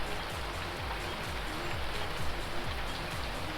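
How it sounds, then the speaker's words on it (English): Steady rain pours in the Farming Simulator 19 video game, a dense, even hiss of drops on surfaces that holds at one level throughout, with no voices. "I love that rain sound."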